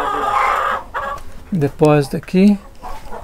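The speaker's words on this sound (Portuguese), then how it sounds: "Olha quanta galinha." Chickens cluck in a henhouse of about 150 hens on a rural farm, several loud nearby calls rising in bursts with short gaps, while someone speaks briefly over the start.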